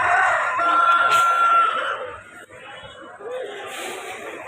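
A fighting rooster of the Nellore type at a fighting-cock market in Vijayawada crows once in a long, held call, with crowd chatter and other birds continuing faintly behind it.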